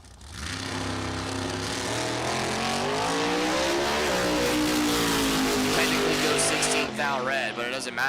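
A 5-0 Index class drag race car makes a full pass down the strip, its engine a loud sustained roar that climbs steadily in pitch, with a commentator talking over it throughout.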